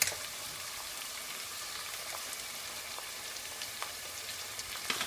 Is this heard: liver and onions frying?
yes